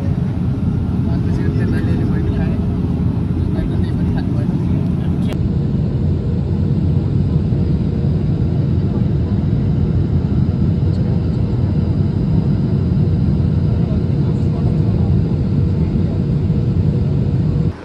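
A steady, dull roar of airplane cabin noise during landing approach into Bangkok fills the whole stretch, with people talking underneath.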